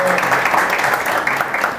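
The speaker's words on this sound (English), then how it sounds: "maybe a big round of applause for Albert at this point" Audience applause at a startup networking talk, a dense steady clatter of many hands clapping throughout, loud and continuous with some mixed voices underneath.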